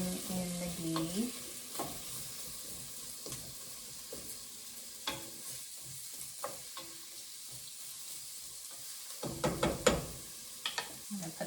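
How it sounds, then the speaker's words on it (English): One large onion frying in ghee, soft sizzle with intermittent stirring scrapes and knocks of a utensil in the pan, close and fairly quiet, busiest near the end. "So I'm using one large onion, and I'm just going to let that start cooking here. Cooking in the ghee."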